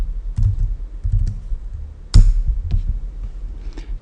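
Keys clack on a computer keyboard as a command is typed into a terminal, in irregular close taps with one louder key press standing out.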